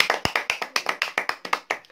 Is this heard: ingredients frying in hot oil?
no